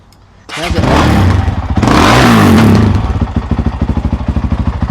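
A Honda CRF450X dirt bike engine with an aftermarket FMF silencer kicks to life with a loud crackle, revs up hard twice, then settles into a rapid, choppy idle close by.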